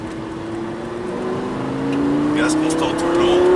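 A Lamborghini LP 560 accelerating hard on a race track, its engine note climbing steadily in pitch as it builds speed, loud and close, with some rushing wind noise.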